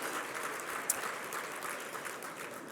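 Audience applause at a gala dinner, a moderate, steady clapping from a crowded room that carries evenly throughout, with one sharper clap standing out.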